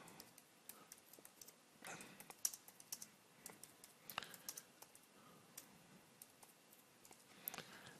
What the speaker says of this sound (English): I can type in some notes for myself.